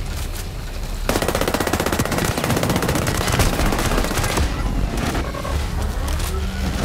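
M4A1 rifle firing in Ghost Recon: Breakpoint, a loud sustained stream of rapid close automatic shots that eases off near the end, with no talking.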